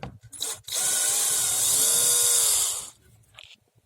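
A power drill unscrews screws from a portable chiropractic table, one loud whirring burst of about two seconds with a pitch that sweeps down near the end, then quiet handling.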